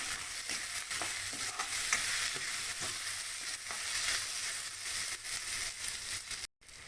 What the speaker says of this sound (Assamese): আমৰা টেঙাখিনি ভালকৈ ভাজি ল'ম।